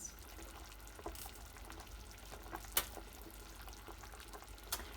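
Chicken soup with celery and carrots bubbles on a stove, giving a soft, steady simmering and popping with occasional small bursts, faint and close, with no talking.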